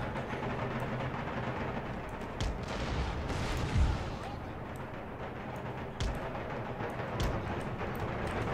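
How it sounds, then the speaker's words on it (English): Cannon fire in the strategy game Empire Total War booms over dense battlefield noise, with a few heavy thuds standing out against the continuous roar of combat. "blast off a few cannon shots, might kill some fusiliers."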